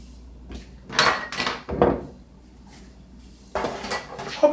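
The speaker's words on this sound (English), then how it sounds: "So what I'm going to do is just take my pan here" A baking pan is picked up and set down on a kitchen counter, giving a few quick metallic clanks and scrapes close by, with a short pause between two clusters of handling.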